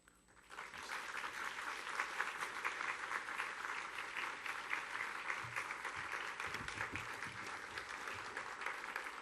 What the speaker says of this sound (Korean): 우리 큰 박수로 목사님 모시도록 하겠습니다